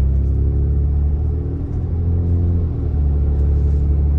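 Steady low rumble of a car engine idling and driving gently at low revs during a transmission relearn drive, close and continuous with slight swells in pitch.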